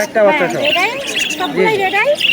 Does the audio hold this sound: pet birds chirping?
yes